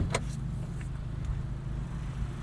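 The 2-liter turbocharged four-cylinder of a 2024 Acura Integra Type S idles with a low, steady rumble, close and moderately loud, with a couple of faint clicks early on.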